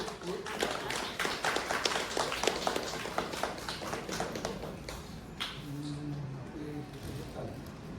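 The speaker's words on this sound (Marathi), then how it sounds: "ते सगळ्यांना असे जोरदार टाळ्या वाजत पाहिजे." Loud applause from an audience at a Marathi felicitation gathering, a steady rush of many hands clapping close by, with a few voices talking over it near the end.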